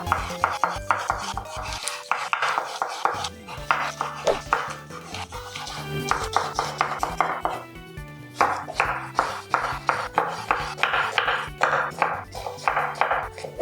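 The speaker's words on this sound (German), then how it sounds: "Dafür schneide ich mir jetzt einfach was klein und dann wird das erstmal gebraten." Knife chopping bell pepper and aubergine on a board in a home kitchen, giving steady close, loud rhythmic thuds with clattering of utensils and dishes mixed in; no speech.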